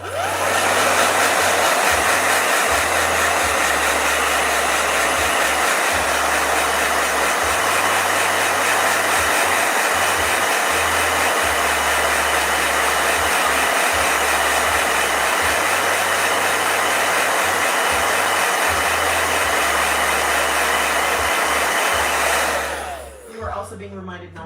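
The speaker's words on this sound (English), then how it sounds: "It's blow dryer time." A blow dryer runs continuously for over twenty seconds, a loud, steady whooshing roar with a constant motor hum, cutting off near the end; no talking.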